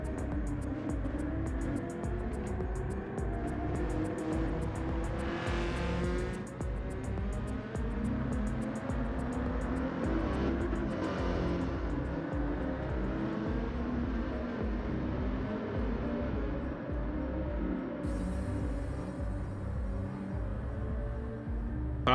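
A Lamborghini Huracan, a modified race car, lapping the Tsukuba circuit, its engine droning steadily at close range with continuous rumble and shifting pitch throughout, no voices over it.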